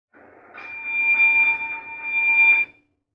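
A house alarm sounds indoors, a steady piercing electronic tone holding for about two and a half seconds before cutting off abruptly.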